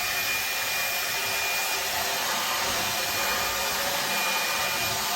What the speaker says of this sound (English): Hey, don't forget to vacuum under the slide carpet.